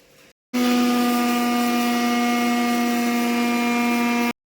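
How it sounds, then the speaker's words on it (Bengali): A mixer grinder runs dry on poppy seeds, starting abruptly after a brief pause and holding a loud, steady motor whine with a strong hum for about four seconds before cutting off. "আমি প্রথমে একটা মিক্সির বলেতে কিছুটা পোস্ত শুকনো বেটে নেব তারপর জল দিয়ে বাটবো"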